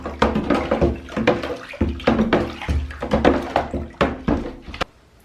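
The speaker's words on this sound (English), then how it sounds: "So I'm just going to give it a little stir with a stick" A stick stirs cleaning solution into a tub of water for soaking smelly shoes, giving repeated close sloshing swirls and wooden knocks against the container in an uneven rhythm with no talk.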